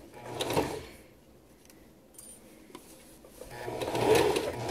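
Sewing machine basting a half-inch seam on a dog coat, running in two close, steady whirring stretches separated by a quieter pause with a few soft clicks.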